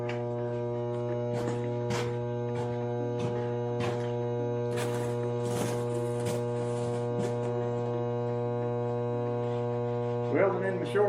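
Welding on thin 55 gallon drum-head metal while repairing a rusted tractor seat: a steady electrical hum and buzz with irregular crackling spatter bursts throughout.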